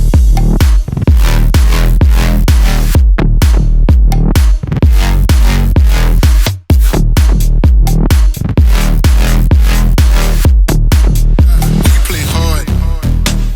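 Serum-designed synth bass from a remake of a song, playing loud, steady rhythmic notes with a dense full-range buzz and a brief dropout midway, no voices.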